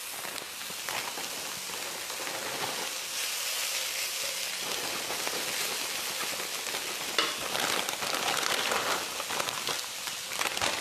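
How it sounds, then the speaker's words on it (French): White cabbage frying in a pan for homemade Thai shrimp spring rolls, a steady dense sizzle and crackle that holds at an even level throughout, with occasional stirring clatter and no talking. "Et après, je vais cuire le chou blanc."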